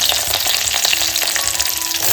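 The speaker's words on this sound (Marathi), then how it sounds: "टोपामध्ये तेल घालून घेतलं इकडे लसूण घालून घेतोय इकडे कढीपत्ता" Garlic and curry leaves sizzling hard in hot oil for a tempering, a loud, dense, close crackle with scraping from stirring, no voices.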